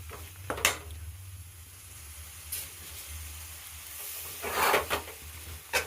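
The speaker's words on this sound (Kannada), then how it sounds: "ಈಗ ಒಂಚೂರು ಎಣ್ಣೆ ಹಾಕ್ತೆ." Oil heating in a pan for raw mango chitranna, giving a soft, low hiss and sizzle with a few stirring scrapes and clinks. The sound is fairly quiet and has no talk over it.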